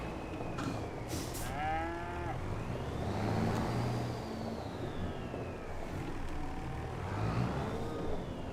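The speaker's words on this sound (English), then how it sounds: "that should automatically feed the cows when their trough gets a little bit low" Dairy cows in Farming Simulator 25 give several drawn-out moos, some rising and falling in pitch and spaced a few seconds apart, over a constant low engine-like rumble.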